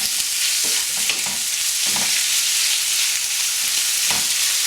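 Pork browning in a pan with softened onion and garlic for ginataang langka, a steady loud sizzle with a few soft stirring scrapes, no talking.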